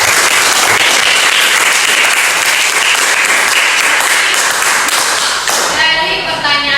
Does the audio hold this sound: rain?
no